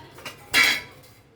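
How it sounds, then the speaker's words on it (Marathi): Brief clinks of metal pots and dishes being scrubbed and set down while washing up in a home kitchen, two quick knocks and then a louder clatter, close and alone. "स्वराज भाऊचे भांडे घासणं झाल्यावर."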